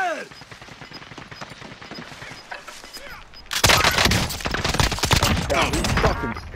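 Video game gunfire in a battle royale match: a few scattered shots at first, then a sudden burst of loud, dense, sustained fire from about the halfway point, with voices talking underneath.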